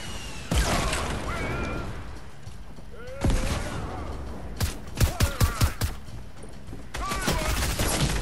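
Gunfire from a video game pistol, with single sharp shots and a quick burst of several reports near the middle, over busy game sound and a speaking voice.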